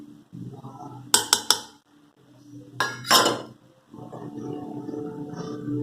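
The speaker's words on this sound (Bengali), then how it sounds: "ডিম ফেটিয়ে দিলাম" Bowl clinks as an egg is beaten with cornflour, ginger paste and garlic paste; a quick burst of sharp metallic taps, then a second scraping burst, over a low steady background hum.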